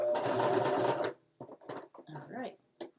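A sewing machine runs in one steady, close burst for about a second while backstitching a fabric wall hanging, then stops and a few soft, scattered handling noises follow.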